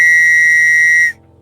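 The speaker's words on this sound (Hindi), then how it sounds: "और तभी रेफरी की सीटी बजी" A referee's whistle at the start of a bicycle race gives a single loud, steady blast of about one second that cuts off abruptly, alone with no talk.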